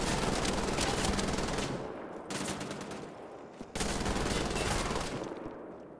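Heavy machine gun firing in Wolfenstein: The Old Blood, sustained loud bursts of rapid automatic fire broken by brief pauses, close and dense.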